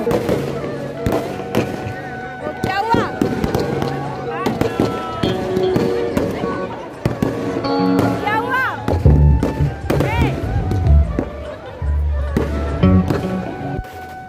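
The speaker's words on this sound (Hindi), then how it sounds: "गमरू ग्राउंड के रावण के अंदर जो पटाखे लगे थे वो भी इतने ज़्यादा तेज़ थे" Firecrackers packed inside a burning Ravan effigy at Gamru ground go off during a Dussehra celebration: rapid, loud cracking bursts and deep booms in dense volleys, with a cheering crowd beneath.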